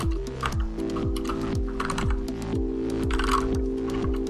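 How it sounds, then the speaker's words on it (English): Fast, continuous clatter of keys on a computer keyboard while code is typed, close and crisp with a steady rhythm of rapid strokes and no talk. "I'm good at typing."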